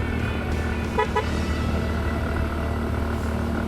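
A vehicle horn honks in short tonal bursts during a motorcycle ride on the muddy, landslide-hit Taal Loop road. Heavy engine and road rumble continue underneath.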